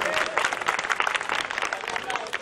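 An audience at a sangeet claps in dense, lively applause, steady and fairly loud throughout the short burst, with some crowd noise mixed in.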